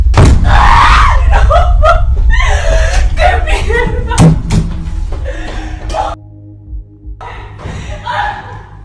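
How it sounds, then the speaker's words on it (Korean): A bloodcurdling scream and a door slamming shut in a bedroom during a woman's video call, in a scary internet video. A loud outburst opens the clip and a sharp thud follows midway, with voices talking throughout. "소름 끼치는 비명소리와 함께 영상이 끝이 납니다."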